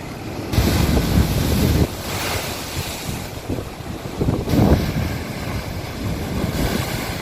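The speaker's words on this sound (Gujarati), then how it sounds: "દેશની બંને તરફના સમુદ્રમાં ભારે ખલબલી મચી ગઈ હોય તેમ સમુદ્ર તોફાને ચડ્યો છે" Rough stormy sea off Gujarat ahead of Cyclone Biparjoy, with surging waves and strong wind roaring in swelling gusts close to the microphone, no voices present.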